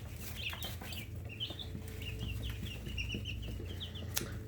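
Chickens cluck and chirp softly in a barnyard, with scattered high peeps from young chicks over a low steady background hum, faint and continuous.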